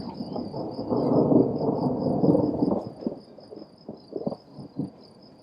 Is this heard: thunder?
yes